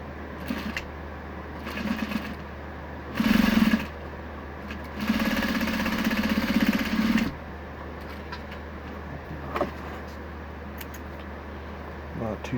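A Juki 8700H industrial sewing machine runs in several stitching bursts while sewing a second row on a shoulder pad, its motor whirring loudly in short spurts and one longer run, with quiet pauses between.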